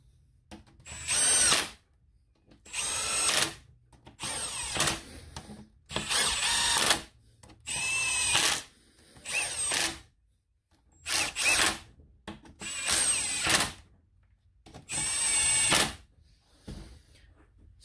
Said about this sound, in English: I run them in with an impact, just to more or less speed things up a little bit.